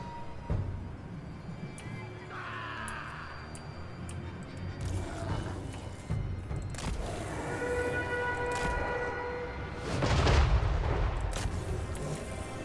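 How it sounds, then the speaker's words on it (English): Mortar artillery fire in the battle game Total War Warhammer 3, with booms and impacts scattered through a busy battlefield din, one heavier blast toward the end, mixed with tonal effects. "I'm going to start getting hammered by the mortars."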